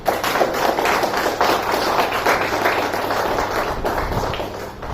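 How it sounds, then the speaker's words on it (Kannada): An audience at a Kannada book-release function gives a round of appreciative applause, dense continuous clapping filling the hall for several seconds and easing off slightly toward the end. "ನಿಮ್ಮೆಲ್ಲರ ಪರವಾಗಿ ಒಂದು ಮೆಚ್ಚುಗೆಯ ಚಪ್ಪಾಳೆ"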